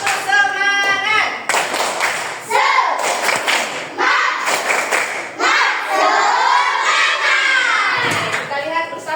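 Children in a classroom perform a rhythmic tepuk semangat chant, clapping loud, close patterns while their voices call out in unison, with claps and shouts interleaved throughout.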